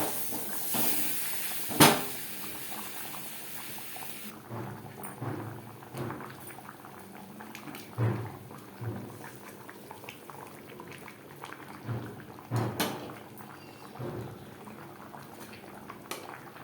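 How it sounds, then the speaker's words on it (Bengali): Chicken biryani gravy with chicken pieces boils in a pot: a close, steady bubbling with scattered louder pops and a sharp clink near the start, with no talking. "গ্রেভি বেশ ভালো করে ফুটতে শুরু করে দিয়েছে"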